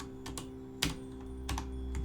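Quiet typing on a computer keyboard with a laptop set in front of it, a few distinct key presses in a short irregular run, close and soft, with no talk.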